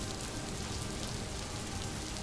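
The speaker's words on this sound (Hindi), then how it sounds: "कुछ देर तक सिर्फ बारिश की आवाज सुनाई देती रही।" Rain falls steadily in an even, soft wash with no distinct drops, no pauses and no voices.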